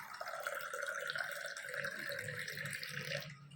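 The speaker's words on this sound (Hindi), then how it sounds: "कलश को पानी से भर देना है।" Water pours steadily into a puja kalash, a continuous splashing fill that stays even for a few seconds before stopping abruptly.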